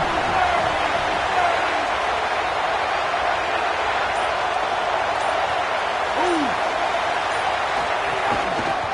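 A college football stadium crowd makes a steady, dense roar throughout, loud and continuous with no clear breaks, in a video game.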